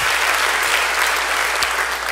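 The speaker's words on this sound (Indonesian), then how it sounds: "Beri tepuk tangan yang baik buat dia" A congregation applauds during a church sermon, dense and loud clapping that runs steadily and evenly from start to finish, with no voice rising above it.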